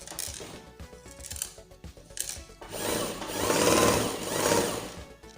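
A sewing machine stitches tulle net ruffles, starting in short, broken bursts and then running in two longer, louder runs of rapid mechanical whirring.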